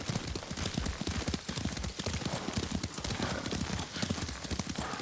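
A horse's hooves clip-clop in a quick, steady rhythm during riding in the Ghost of Tsushima video game, close and even throughout.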